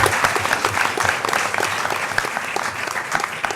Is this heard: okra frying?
no